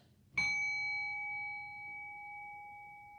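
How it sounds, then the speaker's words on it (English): A single bell is struck once to open a yoga class, its clear tone ringing on and slowly fading over a few seconds against a quiet background. "And I'll ring our bell to start."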